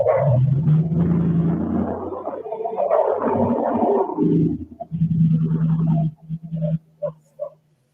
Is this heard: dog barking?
yes